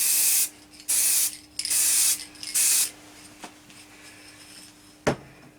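Bursts of spray paint hiss onto a wooden turned bowl in four or five steady, close passes, followed by quiet and a couple of light knocks.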